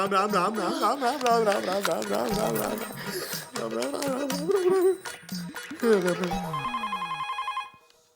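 A telephone ring sounds in a domestic comedy scene: a regular, pulsing electronic ring near the end, after voices and background music.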